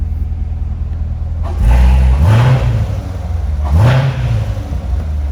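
A 2019 Corvette Stingray Z51 with a seven-speed manual idles with a deep, steady V8 rumble, then two sharp throttle blips rise and fall at about two and four seconds, loud and close with no talk.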